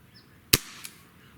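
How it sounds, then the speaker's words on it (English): An S&W 586 pellet revolver fires one shot over a chronograph: a single crisp, snappy pop followed by a faint secondary tick, against quiet room background. "let's start with 5 shots over the Crony with our 586."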